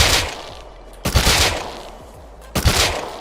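MP5 submachine gun bursts in the survival game Rust, three sharp loud volleys spaced about a second and a half apart, each trailing off into a decaying echo.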